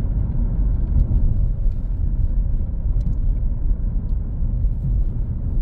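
Interior road noise in a Ford Focus 1.0 EcoBoost Champions League Edition while driving: a steady, dense low rumble from tyres and engine that stays even throughout, with no talking.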